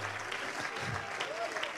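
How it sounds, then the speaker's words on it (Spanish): A church congregation at a Pentecostal service claps together in sustained applause, moderately loud and steady, with voices faintly mixed in beneath. "Aplauda, aplauda al Señor, aplauda al Señor."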